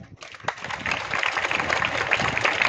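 A school audience of teachers and students applauds students for their high marks at a Shimla school event, a steady, dense clapping that builds and holds throughout.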